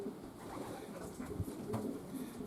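Pigeons cooing softly inside a racing pigeon loft in Sheffield, a steady low murmur of calls with a few slightly louder coos rising near the middle, no voices.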